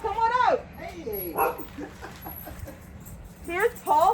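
A puppy makes several short yips and whimpering barks at close range, some overlapping, with breaks between the bursts and a person talking around them.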